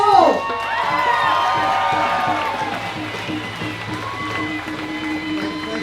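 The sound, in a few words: crowd applause and cheering at a march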